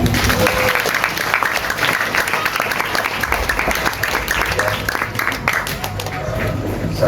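An audience at a religious study gathering at an Islamic boarding school in Banyuwangi claps steadily for several seconds. The applause is broad and even, with crowd murmur underneath.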